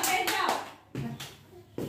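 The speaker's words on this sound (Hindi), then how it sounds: "ताली बजाओ ताली" Children clap briefly at a balloon-popping competition game, a few quiet bursts of claps spaced out over young voices chattering nearby.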